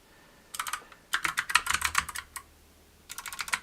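Typing on a computer keyboard at a desk: quick bursts of close, crisp key clicks in irregular clusters separated by short pauses, with no talk over them.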